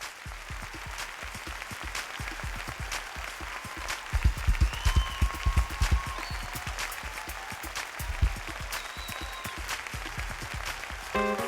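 Church congregation at a lively praise service clapping and cheering together, dense rhythmic handclaps with crowd noise and scattered shouts, steady throughout and swelling in the middle.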